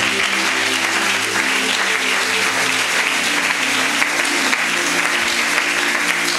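A church congregation applauds steadily and loudly throughout, a dense wash of clapping with no breaks and no voices standing out above it.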